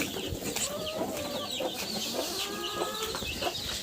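Hens clucking and chattering nearby, with bird calls layered over a busy farmyard background.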